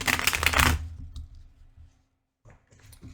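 Tarot cards are shuffled close by in a quick burst of riffling and flicking, then quiet, then a few softer card taps and slides.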